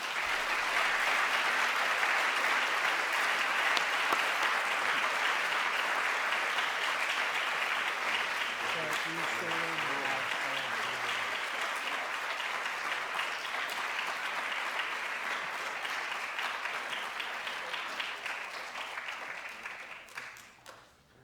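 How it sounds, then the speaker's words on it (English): Steady, even applause from an indoor audience honoring an award recipient, continuing at a constant level before tapering off at the end, with a faint voice briefly heard beneath it. "Please join me in giving a warm round of applause for the 2017 Allen Lesko Award recipient"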